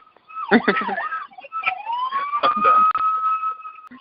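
A police siren wails nearby, its pitch sweeping up and down, then settles into a steady high tone.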